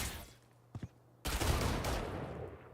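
Rifle fire crackles in a competitive shooter match, first two quick close shots, then a dense sustained volley of gunfire, heard without talk.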